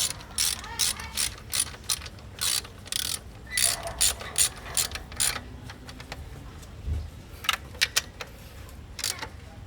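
Repeated bursts of ratchet clicking as bolts are tightened on the oil cooler of a BMW F10 520D with the N47 diesel engine, in quick rhythmic runs with short pauses, close and fairly loud, no talking.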